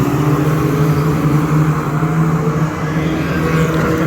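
Stock cars at Cowdenbeath in Scotland roar around the track on a race restart, a loud continuous engine drone from several cars blending together at a distance.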